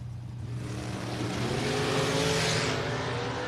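Chevy-powered dragster drag racing in the left lane, a steady loud engine roar that swells and peaks midway as the car launches and accelerates away, with broad track noise and no talking.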